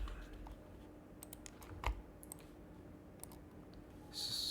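Sparse keystrokes land on a computer keyboard, with scattered quiet clicks and one sharper tap partway through, over a faint room hiss. The keyboard is close but soft, with no talk.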